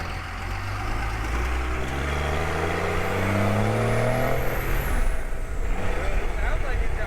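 A pickup truck rolls down the road on a test drive, its engine droning steadily with rising and falling tones and constant road rumble throughout, loud and close.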